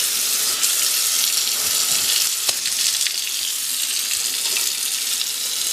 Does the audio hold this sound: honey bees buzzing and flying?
no